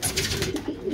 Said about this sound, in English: And a very well-performed racing pigeon, this one.